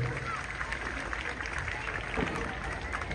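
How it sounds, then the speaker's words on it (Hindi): Audience applause at a live Chhattisgarhi comedy show starring Amlesh Nagesh: a dense, steady wash of clapping from a crowd, held at an even level for the whole stretch without a clear break. "संगवारी को एक जोरदार ताली तो बनते हैं।"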